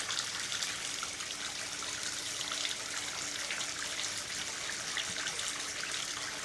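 Warm water trickling from a tap onto a cleaning brush, a steady close splashing and dribbling stream at low level, uninterrupted throughout.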